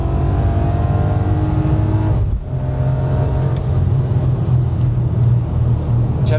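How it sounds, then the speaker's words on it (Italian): A BMW M3 E46 engine revs loudly and steadily with a deep, rumbling exhaust note, dipping briefly midway before surging again, close to the microphone. "io spero che dal video si senta come canta questa macchina, perché è la perfezione"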